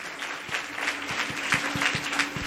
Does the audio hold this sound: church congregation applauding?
yes